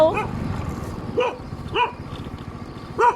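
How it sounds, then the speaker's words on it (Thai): A dog barks close by, four short sharp barks spaced about half a second to a second apart, over a low rumbling background. "มาแล้วมาแล้วอย่าเห่าอย่าเห่า"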